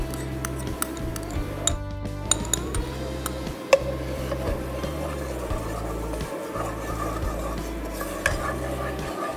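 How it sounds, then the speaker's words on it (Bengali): Spices are stirred in hot oil in a pan, giving steady scraping and light metallic clicks from the utensil against the pot over a constant background hum, with a few sharper taps and no talk. "মশলাগুলো একটু নাড়াচাড়া করে আর একটু সামান্য একটু কষিয়ে"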